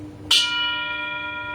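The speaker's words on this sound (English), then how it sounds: "just then, Magenta hits a gong" A single gong struck once, with a bright attack followed by a long, sustained metallic ring that fades slowly.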